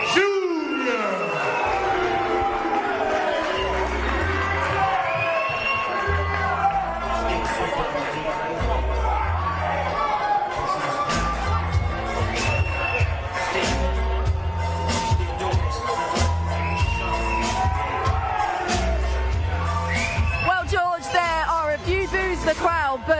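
Crowd at a boxing weigh-in for Liam Smith vs Chris Eubank Jr., a loud sustained roar of cheering and whoops filling the venue, mixed with a booming announcer's voice.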